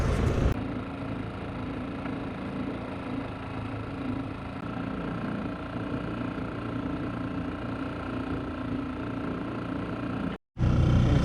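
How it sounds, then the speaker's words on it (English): A small outboard motor pushes a sailboat along, a steady low drone that stays even and continuous with wind rumble on the microphone, cut off by a brief dropout near the end before resuming. "I'm using the little outboard to give me a boost here."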